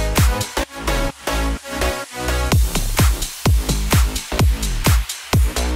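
Future Bounce outro made in FL Studio 20, bass line and filtered melody playing without the lead, with punchy rhythmic hits pulsing steadily at close, loud level and no speech.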